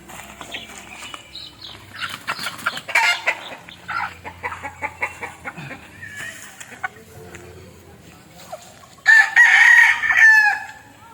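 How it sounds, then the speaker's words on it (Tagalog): Backyard chickens cluck steadily at close range, then a rooster lets out a loud crow near the end, with a voice speaking briefly among the birds. "yung aking mga alagang manok"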